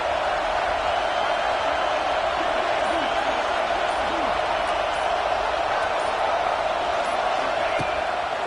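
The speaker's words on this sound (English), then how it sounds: "Decibels rising as the crowd gets behind this defense on 3rd down" A stadium crowd in a college football video game roars steadily on a third-down play, a broad, continuous wash of noise holding loud and even throughout, with faint commentary voices underneath.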